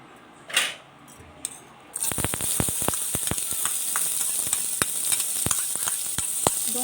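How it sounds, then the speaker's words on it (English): Two chopped onions frying in a pan: after a quiet start, a steady bright sizzle sets in, punctuated by sharp clicks and taps of a utensil stirring against the pan. "Now for a minute I have fried this."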